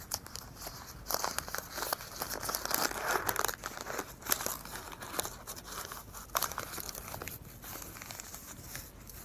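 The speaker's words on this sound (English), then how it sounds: "Generally, we use the oil paper to wrap it up." Oil paper crinkles and rustles while wrapping an injector valve assembly part, giving irregular close crackling bursts that come and go over several seconds with no talking.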